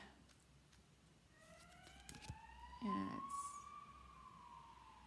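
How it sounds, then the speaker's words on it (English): A distant siren wails with a slowly rising tone against quiet background noise, joined briefly by a louder thump and rustle partway through. "The sirens today, wow."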